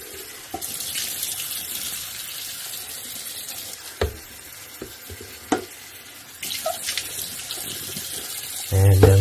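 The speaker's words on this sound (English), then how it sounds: "And then just give it a quick rinse." Water pours and splashes steadily while rinsing out the tank of a VEVOR ultrasonic jewelry cleaner, a continuous running-water hiss with a few sharp clunks and a louder gush near the end.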